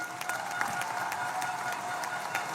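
Fairly faint, steady clapping from a congress audience of the CGT union, applauding the Orchestre de Tours musicians, with a dense spatter of individual hand claps and no talk over it.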